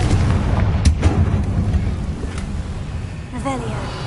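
A Confringo blasting spell explodes in a Harry Potter video game with booming, rumbling blasts under a voice, followed by a short tonal chime near the end.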